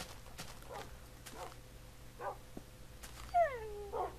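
A Minecraft dog makes a few short yips and whimpers, with a thin high whine near the end, faint over a steady low background hum.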